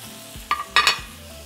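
Potatoes and chicken for taquitos frying in a pan and being stirred: two short, close scraping bursts of stirring over a quiet, low background, with no voices.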